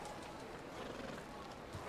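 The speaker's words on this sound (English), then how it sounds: "Now I got my horse up a mountain." A horse in the video game Red Dead Redemption 2 neighs as its hooves clip-clop on a mountain, sounding faint and brief under a steady wash of game ambience, with a voice talking over it.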